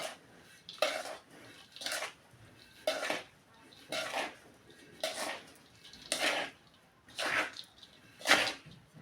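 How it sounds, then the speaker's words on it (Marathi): Dry fruit laddu mixture being folded and mixed with a spatula, giving about nine rhythmic scraping strokes against the bowl at a steady pace, close and moderately loud. "या ठिकाणी मी उचटणी घेतली आहे आणि उचटणीच्या साह्याने व्यवस्थित मिक्स करून घेते"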